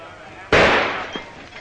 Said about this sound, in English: It's some shooting, ain't it?